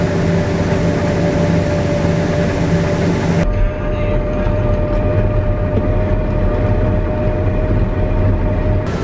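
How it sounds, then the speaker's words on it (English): Inside a combine harvester cab at harvest, a loud constant mechanical roar with steady tonal hum, the ticking cutter bar and feeder house blending into the drone, shifting in character partway through. "what's the noise you can constantly hear, the tick, tick, tick, tick, tick, tick noise you can hear in the combine cab?"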